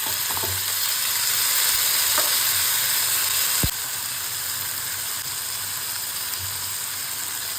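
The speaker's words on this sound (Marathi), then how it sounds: "ह्यात डिरेक्टली आपण बटाटे घालूयात" Potatoes fry in hot oil with cumin, ginger and garlic in a steady, loud sizzle and hiss, with one sharp knock partway through before the frying settles a bit quieter.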